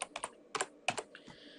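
Someone types a layer name on a computer keyboard in several quick clustered clacks, with short pauses between the bursts, close and fairly quiet.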